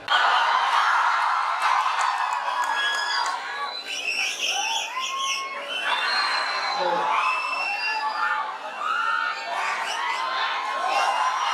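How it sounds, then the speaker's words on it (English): An audience at a live public talk in Birgunj whoops and cheers loudly and continuously to welcome a youth leader, with scattered shouts and crowd babble throughout. "let's welcome him with huge round of applause"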